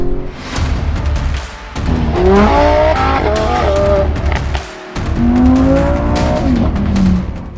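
A Lamborghini Huracan Tecnica sports car drives hard, its engine revving and surging loudly up and down through gears with tire squeal mixed in, close and dominant throughout.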